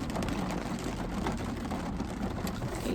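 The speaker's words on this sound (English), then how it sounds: "reversing in the rain" Steady rain drums on a Renault Zoe electric car as it reverses, a dense, even patter with low rumble filling the cabin, no voices and no beeping.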